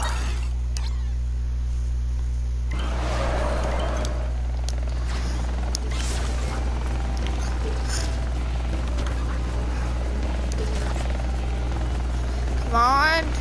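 Rotor chopping of a helicopter in the video game LittleBigPlanet 3, a steady loud drone with strong low hum running the whole time, a brief swelling whoosh near the start and a rising chirp at the end.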